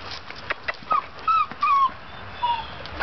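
Dogs playing outside with a toy ball give several short high whimpers and yips, close and fairly loud, in brief bursts over a quiet background.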